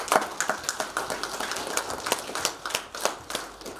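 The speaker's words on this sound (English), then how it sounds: "Give yourselves a round of applause." An audience applauds graduates of a business startup grant scheme at an awards ceremony in Fiji. The clapping is fairly close and moderately loud, with uneven rhythm, and continues steadily for a few seconds.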